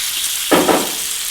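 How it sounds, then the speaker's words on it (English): Bacon frying in olive oil erupts into a loud burst of sizzling as oil hits the pan, swelling for a moment before settling back to a soft background hiss. "I'm going to add some oil now, because I'm worried about pieces of bacon burning up"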